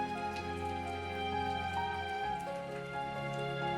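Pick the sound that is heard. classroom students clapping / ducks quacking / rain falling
rain falling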